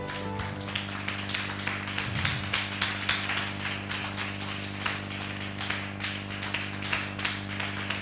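A church congregation claps steadily in even rhythm to acclaim the Lord, sharp taps repeating throughout over a sustained low hum, with no voices standing out.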